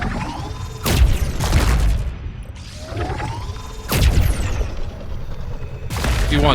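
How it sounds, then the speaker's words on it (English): Shooting at enemies in the underwater video game Subnautica 2, several loud, booming weapon blasts in two pairs with mechanical whirring and crunching between them, no voices. "also shoot these enemies."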